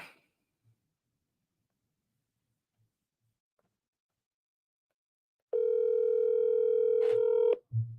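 Telephone dial tone before a call to a property seller: near silence for several seconds, then a steady, clear, continuous tone lasting about two seconds before it cuts off.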